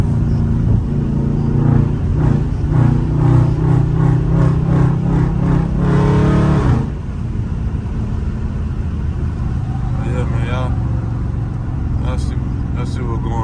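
A catless Dodge Scat Pack in track mode revs hard with a loud, throaty exhaust, with a crackling burst of pops near the middle before it settles to a lower, rougher idle.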